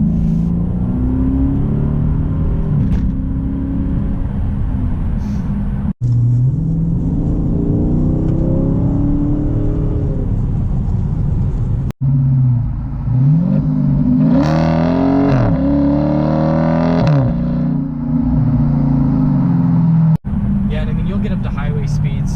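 A 2018 Dodge Charger Daytona 392 with a Hemi V8 accelerates, its engine note rising and falling through held gears in a strong, close rumble, loudest in the middle stretch, with a person talking over it throughout.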